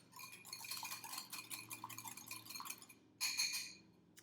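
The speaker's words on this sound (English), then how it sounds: "just whisk it all together" A whisk rattles quickly against a bowl while a sauce is mixed, a rapid run of light metallic clinks that pauses briefly, then returns for a last short flurry.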